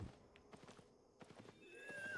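A horse mount's hooves clip-clop in the online game Albion Online, with several faint, quick hoof taps in an irregular walking rhythm and a brief whinny-like tone near the end.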